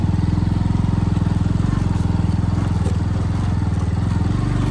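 A motorcycle engine running on a ride through the hilly Markham Valley in West Khasi Hills, Meghalaya, a loud close steady throbbing rumble for several seconds with faint voices mixed in.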